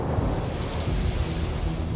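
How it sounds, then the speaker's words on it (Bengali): Heavy rain pours steadily during a sudden Baishakh thunderstorm, a dense continuous roar with low rumbling underneath, loud and close throughout, with no voices. "আকাশ ভেঙে নেমে এলো প্রচণ্ড বৃষ্টি"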